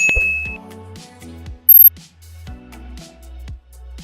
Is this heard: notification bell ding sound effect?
yes